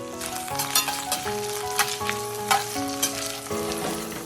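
Cherry tomatoes and thinly sliced garlic blistering in a hot pan, a close continuous sizzle with bursts of crackle and stirring scrapes under soft background music.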